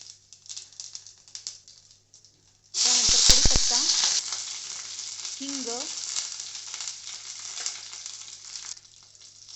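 After a quiet start, a sudden loud sizzle and crackle of cumin and mustard seeds hitting hot oil, a few spoon clinks, then a steady frying hiss that gradually settles.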